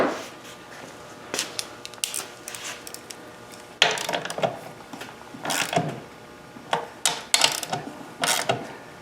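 Screws being tightened down on the cover of a Honda generator, heard as scattered close ratcheting, clicking tool bursts with short pauses between them.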